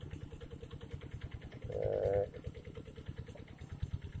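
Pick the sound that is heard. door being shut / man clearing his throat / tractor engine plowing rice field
tractor engine plowing rice field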